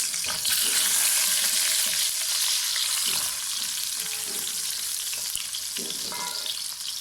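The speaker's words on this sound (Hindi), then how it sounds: "अब हमने बॉयल आलू इसमें ऐड करके फ्राई करना है।" Boiled potatoes fry in hot oil with a loud, dense, continuous sizzle that holds steady throughout, close up and with only a few faint stirring knocks underneath and no talking.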